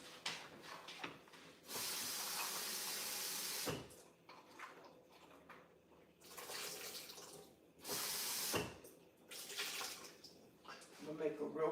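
A kitchen tap runs in several bursts while food is rinsed, the water rushing on and off at moderate loudness with splashing between, and a person speaks faintly in the background.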